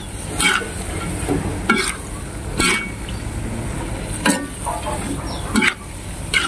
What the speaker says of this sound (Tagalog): ilagay na natin ang pansit bato guys